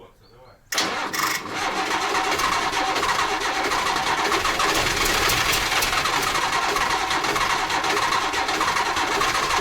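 A Volvo FH truck engine starts in the cold, catching quickly after a brief crank and then running loud and steady close by, with a voice speaking briefly at the start.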